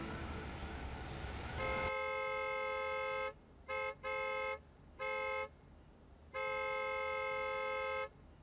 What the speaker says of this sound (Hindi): ये किसने नई नई गाड़ी ली है जो हॉर्न बजा बजा के मेरी?